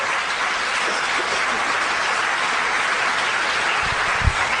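Congregation applause during a church testimony, a continuous wash of many hands clapping at steady volume, with a couple of low thumps near the end.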